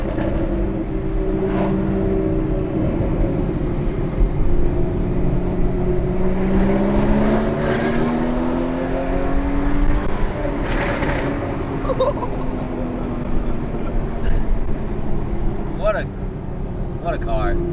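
Porsche Cayman engine driving on mountain roads, a steady continuous drone with rising and falling pitch as it accelerates and shifts, sound echoing off the slopes, with no talk over it.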